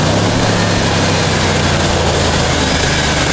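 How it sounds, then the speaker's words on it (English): A car engine held at about 2000 RPM during a battery test, a loud, steady, broadband drone with constant low rumble and no pauses, heard up close. "Rev engine, 2000."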